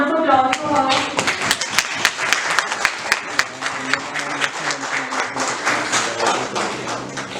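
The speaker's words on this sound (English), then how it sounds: "Please have a huge round of applause for her." A conference audience claps for an honoree, dense applause with sharp individual hand claps standing out, while voices and faint talk continue underneath.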